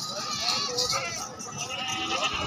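Goats at a madrasa livestock market bleating in short wavering cries, including a nanny with kids, heard amid busy crowd chatter and people talking nearby.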